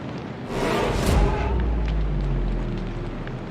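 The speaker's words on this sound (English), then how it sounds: "The ship is on fire!" A burning warship in World of Warships, heard as a sustained low rumbling roar with a crackling burst near the start, steady and fairly loud throughout with no talk.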